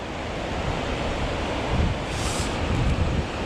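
Water from an overflowing reservoir pouring down a spillway toward Lindley Wood Reservoir, a loud continuous rushing roar with broadband turbulence and some wind buffeting on the microphone.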